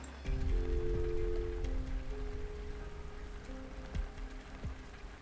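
Rain falling in the video game Arknights, a steady patter over low background music with sustained tones and a few sharp drips near the end.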